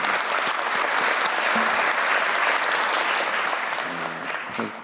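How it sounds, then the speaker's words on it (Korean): An audience claps steadily at an official government meeting, a dense, sustained burst of applause that fades slightly toward the end, with a voice briefly audible underneath. "박수 한번 감사합니다."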